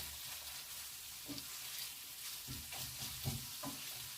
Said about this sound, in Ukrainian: Я беру дві лопатки. І двома лопатками ось так розділяю, розділяю, розділяю, перевертаю і розділяю.